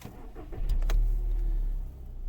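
A 2009 VW Golf V with a 1.6 MPI petrol engine starts up in cold weather, a brief starter crank followed by a steady low idle rumble, close and moderately loud inside the car.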